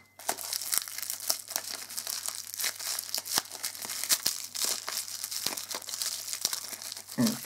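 Plastic packaging for a dipping powder from a cosmetics kit being cut open and crinkled, a close, continuous crackling and rustling with sharp snaps, no talking.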